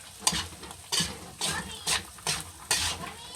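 Bopis with carrots and radish being stirred in a pot, a regular series of about seven scraping, rattling strokes roughly every half second, close and fairly quiet over a faint sizzle.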